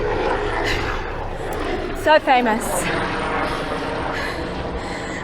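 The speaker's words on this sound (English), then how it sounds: "With a helicopter coming over, filming our class." A helicopter flies overhead above an outdoor fitness class, a steady airborne engine rumble running throughout, with a brief spoken remark in the middle.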